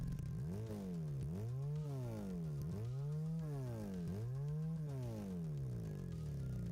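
A simulated 360-degree crank parallel twin motorcycle engine, Engine Sim 1, revs up and drops back in about five smooth, regular cycles, steady and alone with no talking.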